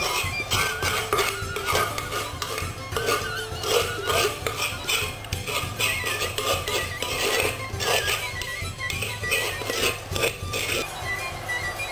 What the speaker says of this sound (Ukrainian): Знову я щищаю мак з стінок.